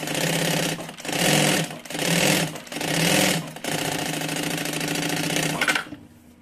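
A sewing machine stitches a straight seam along a mini backpack's fabric lining, running loud and close in several quick rhythmic bursts before a longer steady run that stops abruptly.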